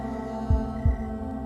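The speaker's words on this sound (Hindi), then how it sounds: "हर किसी का दिल इसी तरह धड़कता है।" Two deep, thudding heartbeats pulse over a steady low hum, spaced evenly like a slow throb in a horror movie sound effect, with no voices.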